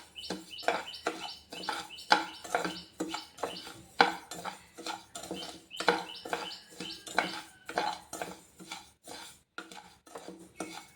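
Millet rice roasting over a medium flame is stirred in a pan for laddu, a spoon scraping and clinking against the metal in steady rhythmic strokes, close and clear with no voices, birds chirping faintly in the background.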